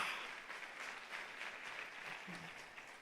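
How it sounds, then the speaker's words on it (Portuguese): A church conference audience claps together in a dense, steady wash of applause that holds level for a few seconds, moderately distant, with no one speaking over it. "Aplauda ao Senhor por isso."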